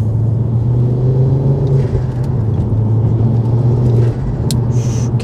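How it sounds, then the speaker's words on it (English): Mountune MR375 tuned Ford Focus RS Mk2 with a turbocharged engine, heard as a steady close engine rumble under load, with a brief airy turbo flutter near the end as the throttle lifts. "Can you hear the turbo flutter?"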